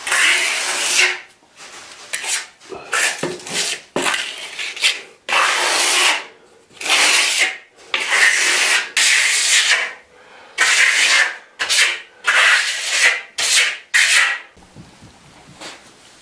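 Hand sanding of a waxed concrete floor between coats: loud, close, rhythmic back-and-forth scraping strokes, each lasting about a second, separated by brief pauses.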